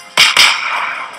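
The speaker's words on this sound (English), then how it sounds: "Oh, there it goes the torpedoes." Torpedoes launched from a warship in the World of Warships video game: two sharp, loud bursts in quick succession, each followed by a broad hissing rush that lingers and slowly fades.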